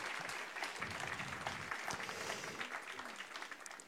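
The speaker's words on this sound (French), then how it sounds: "Et on peut les applaudir, effectivement." Audience applause for jury members at a regional thesis competition final, a sustained wash of many hands clapping at moderate distance, even and continuous throughout.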